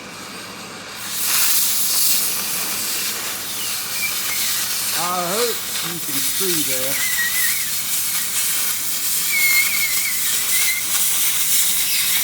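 Oxyfuel cutting torch cutting through metal, a loud, continuous broadband hiss with a few faint rising whistles and soft pops, while someone speaks briefly near the start.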